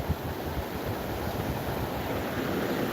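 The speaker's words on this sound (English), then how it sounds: "The ocean." Ocean waves wash onto a beach in a steady, dense roar of surf mixed with wind buffeting the microphone, continuous and fairly loud with no voices.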